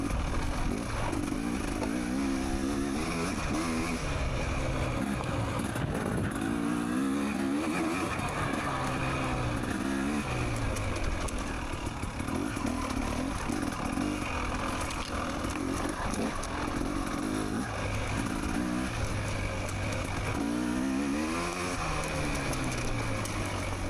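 A dirt bike engine revs hard during a harescramble trail race, rising and falling in pitch constantly as the rider weaves through the trail, loud and close throughout with no break.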